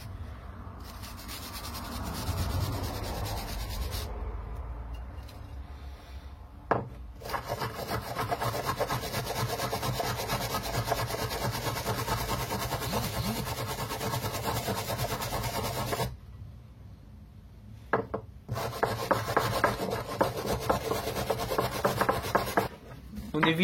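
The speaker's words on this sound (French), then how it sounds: "je vais commencer par les prendre à la brosse métallique" Wire brush scrubbing blackened metal parts in a workshop, continuous loud abrasive back-and-forth scratching with a couple of short pauses, close and alone without talk.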